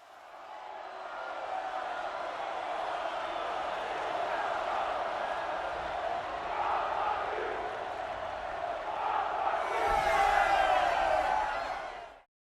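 An arena crowd in the Sun Ring of the video game Horizon Zero Dawn roars and cheers continuously, eager for a fight, the noise swelling gradually and peaking with louder shouts before cutting off abruptly.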